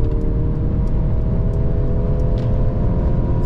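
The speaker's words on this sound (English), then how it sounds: "This is the de-restricted section, so let's put the throttle on." Steady, heavy engine drone and road rumble from inside a new Mercedes C-Class under hard acceleration in Sport Plus mode on a de-restricted German autobahn stretch, loud and continuous with no talking.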